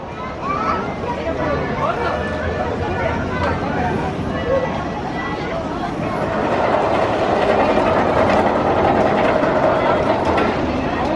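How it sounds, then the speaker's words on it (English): The Tren de la Mina mine train at PortAventura Park rumbles and clatters steadily along the track, loud and close, with crowd chatter mixed in. "Trains very reminiscent of Disneyland Paris, aren't they? Really nice trains."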